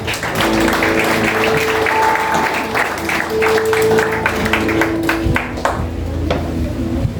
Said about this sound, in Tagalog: bigyan po natin ang Panginoon ng malakas na palakpak